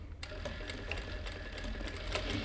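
Domestic sewing machine stitching along a shirt's tower placket over an earlier line of stitching, a close, steady rapid mechanical whir and clatter running throughout without pause.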